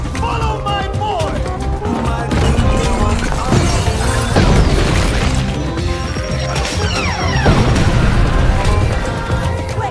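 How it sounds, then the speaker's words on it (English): A bomb blast clears a path through rock, heard as heavy crashing impacts and bursts with rumbling debris, loud and dense over a dramatic music bed, with several hits in quick succession across the stretch. "Pugsley used his bomb to clear a path for his family"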